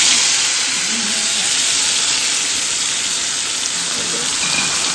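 Water poured into hot oil in a home kitchen pan, giving a steady loud hiss and sizzle that holds evenly throughout without pauses.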